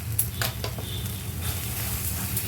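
A sweet-spicy mixture with country sugar is stirred in a frying pan, giving a soft sizzle with a few scraping strokes of a spoon against the pan, close up.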